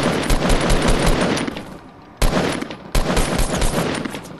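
Loud automatic gunfire rattles in rapid bursts during a video game shootout, a long dense volley, a short pause, then two more sustained bursts, close and dominant with no talking over it.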